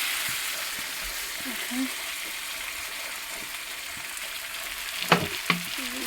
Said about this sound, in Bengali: জল দিয়ে দিচ্ছি, কষানো হয়ে গেছে।